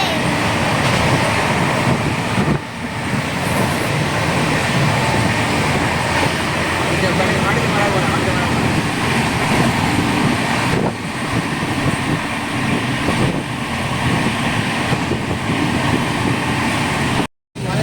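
A moving train rumbles steadily throughout, a dense continuous roar of wheels and carriage noise heard from inside, with a brief dip in the middle and a sudden cutoff at the very end.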